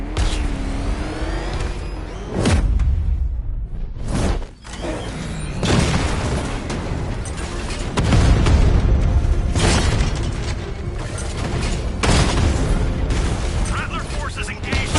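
A tank's 60mm cannon in the Batman Arkham Knight video game fires repeatedly against heavily armored units, each loud booming shot and explosion striking in close succession over rumbling machinery, with a voice talking over it.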